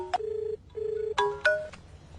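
A telephone rings in two steady electronic bursts separated by a short pause, followed by a couple of sharp clicks, heard alone and at moderate volume in a scene from a Hindi-dubbed Tamil film.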